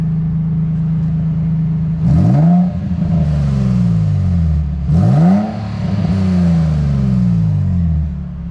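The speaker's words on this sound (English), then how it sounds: "I'm gonna just give it one more rev. See if you guys can hear it." An Infiniti G35 with an aftermarket exhaust revs loudly twice, each blip sweeping up sharply and settling back to a deep, steady idle rumble between the revs.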